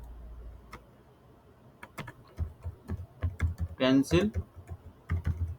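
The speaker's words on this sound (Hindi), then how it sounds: "यहाँ पे टाइप करें" A computer keyboard is tapped out in a series of crisp keystroke clicks, some rapid and some spaced, close up, with someone briefly speaking in the middle.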